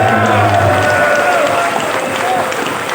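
A hall audience applauds steadily in support at a political gathering, a dense wash of clapping and crowd noise that holds loud throughout, with faint voices and tones threaded underneath.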